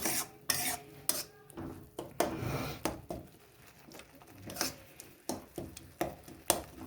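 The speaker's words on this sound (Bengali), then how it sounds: "সর্ষে, কাঁচা লঙ্কা আর রসুন দেওয়া আছে, একটু ভালো করে কষে না নিলে রসুনের গন্ধটা ছাড়বে, তাই একটু কষে নিই" Mustard, green chilli and garlic being sautéed for a tomato and coriander chutney, with a utensil scraping and knocking against the pan in irregular bursts over a low background.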